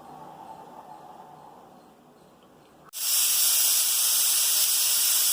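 A pressure cooker cooking vegetable biryani on a stove suddenly bursts into a loud, steady steam hiss partway through, after quiet kitchen background.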